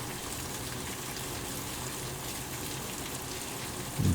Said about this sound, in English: I don't know how long this rain will last